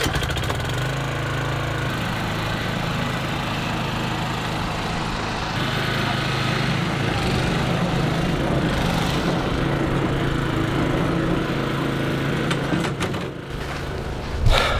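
A lawn mower with a bagger attached scalps sandy turf, its engine droning steadily and loudly throughout with a gritty, rough texture and no talk.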